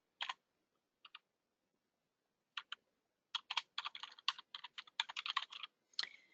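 Computer keyboard typing and clicking while codes are entered into accounting software: a couple of isolated taps, then a dense, irregular run of keystrokes and clicks, close and moderately faint, with no talk.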